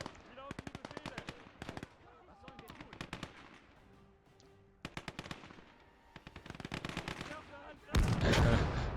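Bursts of 7.92 caliber machine gun fire in the war game Gates of Hell rattle off in rapid strings with brief pauses, ending in a loud explosion-like blast, mixed with distant battle noise.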